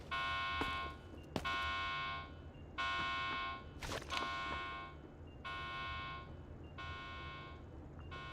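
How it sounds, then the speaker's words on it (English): A mission alarm in the video game Delta Force blares in repeated electronic buzzing tones, about five long bursts with short gaps, quiet and steady with faint clicks between. "You can hear the alarm for the mission sounding as well."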